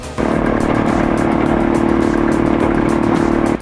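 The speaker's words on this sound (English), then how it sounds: "This homemade chipper went head-to-head with tough Texas mesquite and won." Tractor-powered homemade wood chipper shredding tough Texas mesquite logs, a loud steady mechanical roar and drone running unbroken and close for several seconds before cutting off abruptly at the end.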